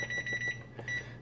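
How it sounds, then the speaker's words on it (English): Rapid repeating electronic beeps from a kitchen timer during cookie baking, a quick series of short high pulses, faint and close. "set the timer in the meantime for the others"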